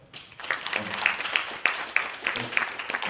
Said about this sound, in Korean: 우리 모든 청년들 너무 귀한 분들이에요. 박수 한번 하죠.